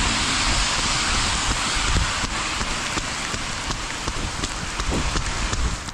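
Steady rain falls outdoors during a run, a continuous broadband hiss of drops spattering on surfaces that stays loud and even throughout, with no voices.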